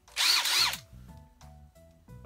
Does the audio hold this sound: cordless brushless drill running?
yes